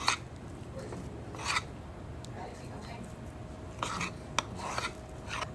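Chickpea flour dough with baking powder being mixed by hand, giving intermittent rasping, rubbing strokes in short bursts over a low background hum.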